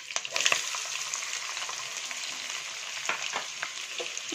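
Chopped onions and curry leaves frying in hot oil, a constant bright crackling sizzle broken by several sharp spatula clicks and scrapes against the pan, close and moderately loud, no talking.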